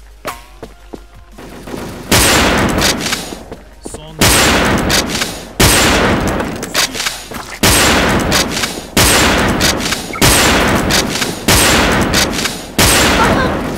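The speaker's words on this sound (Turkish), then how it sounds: "Buraya bomba atayım bakayım" Gunfire and a grenade explosion in the shooter Wolfteam: a quiet start gives way to a series of sharp, loud bursts of shots and blasts that repeat roughly every one to two seconds, each followed by a decaying tail.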